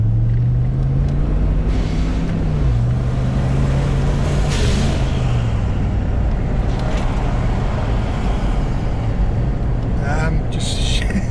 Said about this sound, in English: when you get into it you can really hear the V8 roar